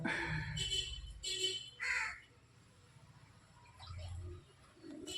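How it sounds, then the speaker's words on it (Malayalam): Crows perched on a wall caw loudly several times in quick succession near the start, followed by softer bird calls and cooing in the background. "കാക്കകൾ ഇങ്ങനെ മതിലിൻ്റെ പുറത്തിരിപ്പുണ്ട്"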